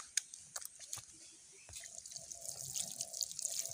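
Tap water runs and splashes over hands being washed with homemade neem soap, quiet and intermittent at first, then a fuller, steadier flow.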